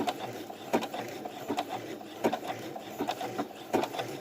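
A sewing machine fitted with an overcast foot stitches a zigzag, its needle clattering in a quick regular rhythm of close mechanical taps, heard alone.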